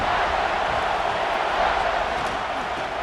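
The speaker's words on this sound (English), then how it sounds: "And the crowd coming to life here, trying to help this defense down in the red zone." A stadium crowd in EA Sports College Football 26, Alabama vs Michigan, roars as the defense holds in the red zone. The sound is a steady, loud, dense wash of cheering that sustains without a break.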